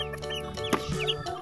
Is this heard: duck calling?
yes